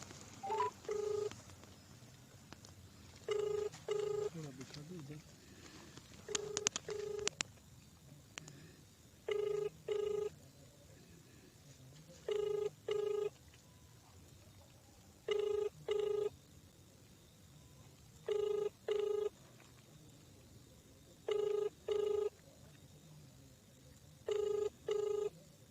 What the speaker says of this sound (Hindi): ये देखिए फ़ोन रिंग गई, लेकिन अभी तक उन्होंने उठाया नहीं है फ़ोन